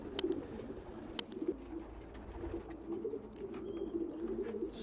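A racing pigeon coos softly and repeatedly in a low, rolling rhythm, with faint chirps and occasional sharp clicks nearby in a quiet loft.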